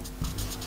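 A pen writing on paper: a brief, quiet scratch of the tip on the page, alone.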